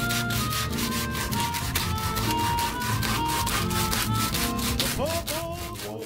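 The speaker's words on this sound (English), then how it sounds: "Some 150 to 300 grit sandpaper and clean up your pipe." A copper pipe for a homemade flute is scrubbed with 150 to 300 grit sandpaper, giving a steady, close, fairly loud rasping rub with continuous back-and-forth strokes and no talking.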